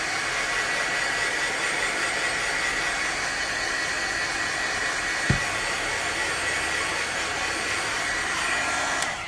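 A heat tool blows a steady, loud broadband whoosh over freshly stamped pigment ink on a card, running continuously for about nine seconds with a brief knock midway and no talking.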